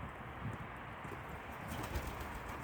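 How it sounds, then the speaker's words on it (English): A backyard flock of birds calls at feeding time with soft, low cooing, faint under a steady wash of background noise. "oh, the bird's quite happy anyway."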